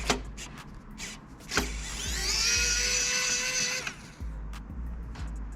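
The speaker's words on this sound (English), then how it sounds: "We're gonna use our Torx" Electric driver fitted with a Torx T8H bit unscrewing a screw on a PS4 Pro CUH-7115 console, a high whine for about two seconds between scattered clicks and handling knocks.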